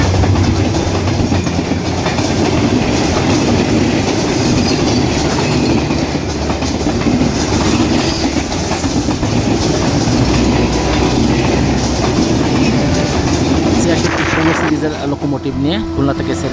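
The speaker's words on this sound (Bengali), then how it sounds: "আজিমনগর রেল স্টেশনের দুই নম্বর লাইন দিয়ে এই মুহূর্তে প্রবেশ করছে রূপসা এক্সপ্রেস" The Rupsha Express intercity train running through Azimnagar railway station on line two, a loud continuous rumble of rolling wagons with clattering wheels close by, easing off near the end, with a voice talking over it.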